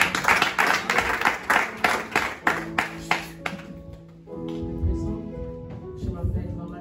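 Church congregation clapping in steady rhythm, loud close hand claps over a murmur of voices, then fading into organ or keyboard tones and singing.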